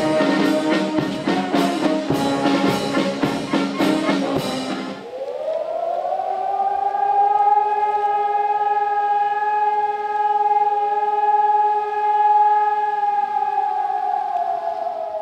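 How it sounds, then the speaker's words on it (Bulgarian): Civil defense sirens wail at a memorial ceremony in Ruse, following a brief passage of bell-like chimes; the long rising and falling tones are loud and sustained, with no talking. "както и с вой на сирени."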